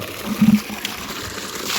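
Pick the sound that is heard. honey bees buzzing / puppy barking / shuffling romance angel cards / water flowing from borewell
water flowing from borewell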